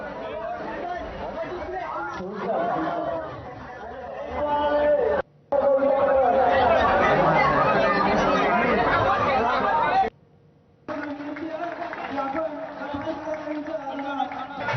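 A dense Dahi Handi festival crowd chatters loudly, many voices blending into a continuous hubbub, with two brief drop-outs where the sound cuts away.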